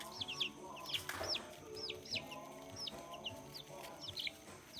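Baby chicks in a backyard homestead brooder, one of them small and sick, peep and cluck in quick, high repeated chirps with a steady low background hum.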